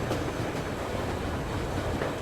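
A train in the video game Metro Exodus running on rails: a steady, dense rumble and clatter of wheels on track, continuous and loud with no break or voices.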